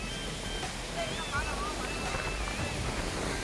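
Heavy rain pours steadily through the woods at a campsite, a constant broadband hiss with faint high bird-like whistles and quiet voices underneath.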